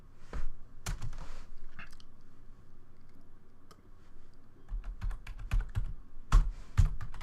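Computer keyboard keys pressed during a Linux installation, with scattered single clicks and then a quicker burst of taps near the end, close and crisp against a faint background hum, no talking.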